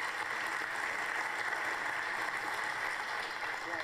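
Faint, steady clapping carries on evenly for several seconds at low volume, soft and distant, with little else audible.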